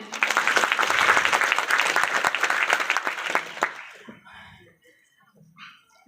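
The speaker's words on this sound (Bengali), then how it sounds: "এজন্য আমি আমার মার জন্য একটা হাততালি চাই" A seated audience bursts into loud, dense clapping at a motivational success-story talk, sustained for about four seconds before thinning out and fading to quiet, with faint murmurs at the end.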